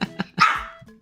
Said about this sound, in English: with a dog that yells at me periodically